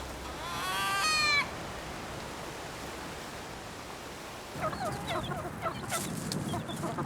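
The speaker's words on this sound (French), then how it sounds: "il y a des poules et des coqs en cavale, des fugitifs" A feral rooster crows once on Kauai, loud and up close, then dies away into faint outdoor ambience, and after a pause several chickens cluck and squawk intermittently nearby.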